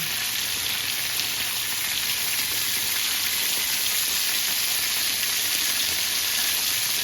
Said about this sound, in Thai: แล้วเราก็ผัดให้เขาเข้ากันเนาะ